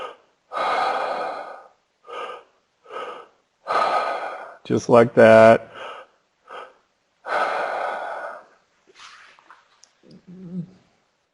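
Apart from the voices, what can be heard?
people doing deep breathing exercise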